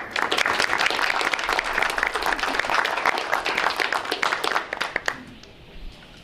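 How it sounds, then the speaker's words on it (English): People at a school board meeting give two activity directors a warm round of applause, with dense, steady clapping that thins out and fades after about five seconds into quiet room noise. "give you a round of applause on behalf of everyone and the two of you as well"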